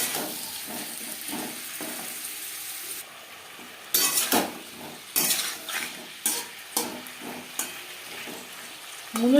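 Potatoes and radish fry in a pan with five-spice seeds, a steady oil sizzle under repeated scraping and clinking as a utensil stirs and mixes them, close up with no talk.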